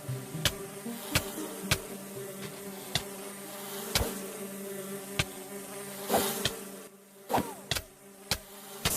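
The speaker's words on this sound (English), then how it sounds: "we also have a new version of the baby bees" Baby bees in Minecraft give a steady, thin insect buzz, accompanied by sharp ticks at a regular pulse, quiet and without speech.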